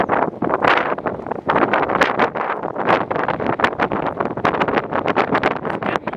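Strong Santa Ana wind near Tehachapi buffets the microphone in loud irregular gusts, a rough roaring rush that surges and dips continuously.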